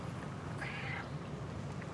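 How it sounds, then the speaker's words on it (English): A house cat meows once from across the house, a faint, brief call sitting low beneath steady background noise, with no other sound standing out. "I hear the cat, like, across the house. Fucking meowing like a fucking lunatic."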